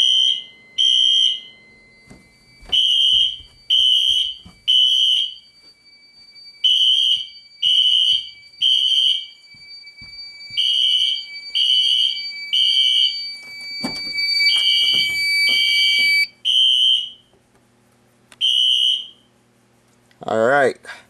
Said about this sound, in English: The alarms are quite loud, and you can still see the strobes pretty decent.